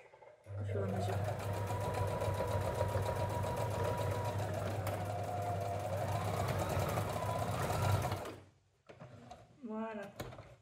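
A sewing machine stitches a seam on a garment with a steady, loud, fast mechanical whir for about eight seconds. It then stops, and someone speaks in French afterward.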